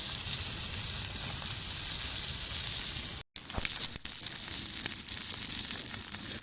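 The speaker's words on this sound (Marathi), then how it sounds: "तर आपली ही कोळंबी मस्तपैकी झालेली आहे आता भाजून" Prawns roasting over an outdoor fire, a continuous close crackling sizzle with a brief dropout partway through.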